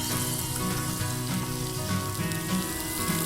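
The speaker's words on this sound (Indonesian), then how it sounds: "panaskan minyak dan tumis bumbu hingga menjadi harum" Shallots, garlic, lemongrass and turmeric sizzle and fry in hot oil for an Indonesian dish, a steady close crackle throughout with occasional soft stirring and no talk.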